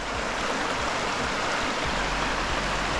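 The Louros river in Epirus, Greece, flows steadily as a loud, continuous rush of water close by, with no voices over it.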